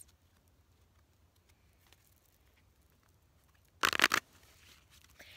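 Tarot-style oracle cards get a quick riffle shuffle in a quiet room: one short, crisp flurry of flicking card edges, close and fairly loud, breaking through near silence with no speech.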